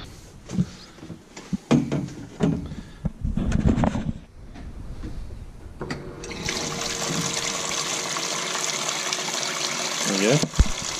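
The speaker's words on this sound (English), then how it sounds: "We probably won't run this much water while it's actually running, so it doesn't slosh and everything" Water gushes through a hose into a Holden VK Commodore's cooler, a steady loud rushing stream starting midway after several seconds of clattering handling noises.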